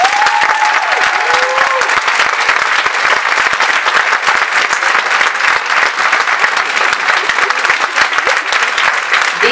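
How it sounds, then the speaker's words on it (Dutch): A school-show audience gives child actors loud, sustained applause: thick, continuous clapping at close range that holds steady for the whole stretch. "En ik denk dat deze acteurtjes een geweldig applaus verdienen."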